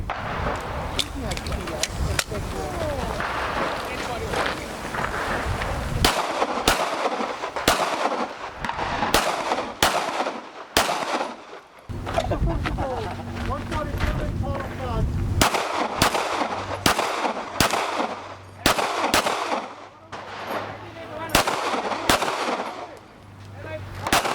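Pistol shots crack out at an outdoor IPSC shooting match, loud, sharp reports in rapid strings with short pauses, mixed with people talking nearby.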